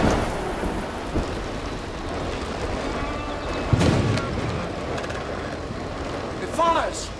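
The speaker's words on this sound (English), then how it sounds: "pouring with rain." Heavy rain pours steadily throughout, and a loud thunderclap breaks in partway through before the downpour carries on.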